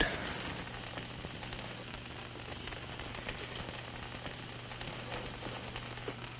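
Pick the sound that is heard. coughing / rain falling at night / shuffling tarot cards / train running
rain falling at night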